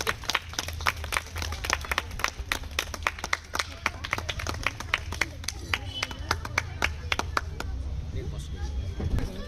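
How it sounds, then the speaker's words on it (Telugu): Crowd clapping at a birthday celebration in Alwal Harijana Basti, many sharp individual claps forming an uneven, fairly rhythmic patter over a low background murmur, easing off near the end. "Clap clap."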